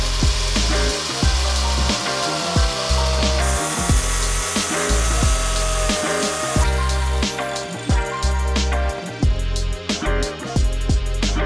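A power tool cuts a Tacoma pickup truck armor part, a loud, close, grinding whine that stutters in repeated short bursts as the blade bites into the piece.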